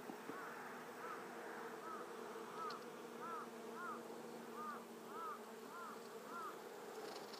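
Japanese honey bees buzz steadily from an open hive box, a dense drone with repeated wavering tones as the bees are shaken and stirred during hive work, continuous and close, with no talk.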